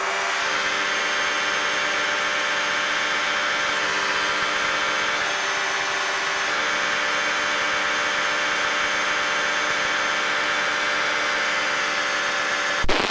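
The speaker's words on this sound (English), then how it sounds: "I need to get a different headset so that you guys don't hear so much engine noise." Steady, loud engine drone inside the cabin of a Challenger II light aircraft in flight, a constant buzzing hum with a broadband rush that holds unchanged throughout, with no talking.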